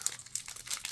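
A Magic: The Gathering booster pack wrapper from Secrets of Strixhaven is torn open with close, crinkly foil rustling and a sharp tear at the end, with no talking.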